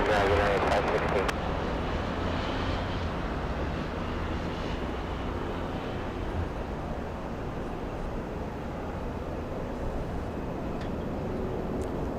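A United Airlines airliner departs Atlanta Hartsfield-Jackson airport as a steady, broad engine roar with wind buffeting the microphone, sustained and fairly loud throughout, with no talk.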